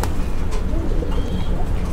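A black Danish pigeon coos up close, a low murmuring call over a dense, noisy background, loud and continuous through the short stretch.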